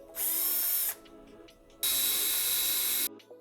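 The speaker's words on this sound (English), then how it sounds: "Let's drill some holes." A power drill whines at high speed in two close bursts while drilling holes for a rail during PAX wardrobe assembly, the second longer, with a brief pause between them.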